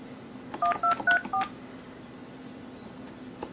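Keypad tones from a Yealink T48G IP phone as a voicemail password is entered: four quick close beeps in a short run, then a pause and one more tone at the end, quiet background.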